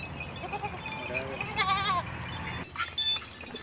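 Goats bleat several times amid a noisy farmyard, with a prominent drawn-out bleat in the middle and more calls near the end.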